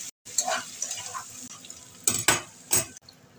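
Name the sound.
stirring chicken and potatoes frying in a pan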